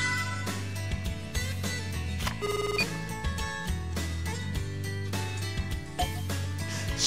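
A phone ringtone plays in Power Major 2009, a video game, while placing a call to Emily: a melodic electronic ringing tune that repeats over a steady backing.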